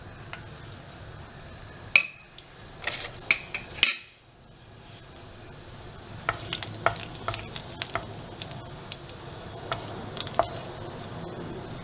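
Whole spices — bay leaf, cardamom, cloves, cinnamon and fennel — frying in hot oil for a vegetable curry, a close crackling sizzle broken by sharp pops and clinks of a metal spoon against the pan.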